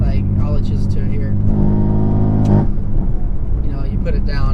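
A BMW F80 M3 with a raspy exhaust revs its engine, a loud, droning note that holds steady and then cuts off, with a voice talking before and after.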